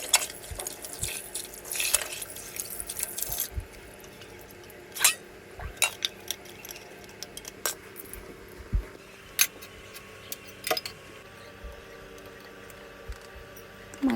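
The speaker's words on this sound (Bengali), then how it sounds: "এবার আমি মাছটাকে ভালো করে ধুয়ে নিই" Fish is rinsed by hand in water, giving soft splashes, drips and wet squishes in irregular bursts, fairly quiet and close.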